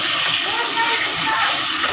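Water poured into a cooking pan for steaming shrimp with glass noodles, a steady, loud rushing splash lasting a couple of seconds, close by, with a voice talking faintly underneath.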